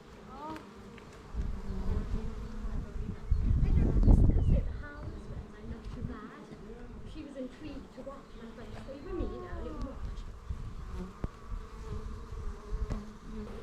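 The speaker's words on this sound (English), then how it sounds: "Let's go and have a little look at this swarm." Swarm of honey bees buzzing outdoors, a dense continuous drone with a louder close pass around the middle, while a person speaks intermittently nearby.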